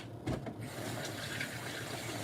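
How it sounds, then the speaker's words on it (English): Tap water runs steadily into a sink as hands are washed, a continuous close splashing rush with no voices. "Let me wash my hands."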